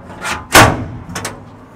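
A small latch on the dog-box access door of a custom canopy on a Toyota Landcruiser 200 Series clicks and thuds open, one sharp loud knock followed by a few lighter rattles close by.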